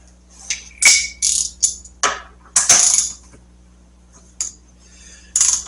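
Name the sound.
wrench breaking the torque on a Road King fork bolt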